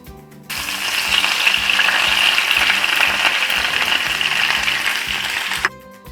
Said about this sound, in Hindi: और इसके ऊपर अदरक और साबुत मिर्चों का तड़का।